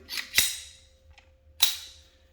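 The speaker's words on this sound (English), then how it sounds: "Safety doesn't do anything except for click into place." Safety catch on a steel Mauser replica blaster clicking into place: two crisp metallic clicks about a second apart, close and distinct, with a tiny tick between them.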